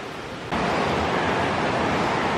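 A river flows at a crossing on the trail to the Curug Cilalay waterfall near Karawang-Jonggol. The rushing water hisses steadily and grows noticeably louder after the first half-second, then holds at an even, close roar.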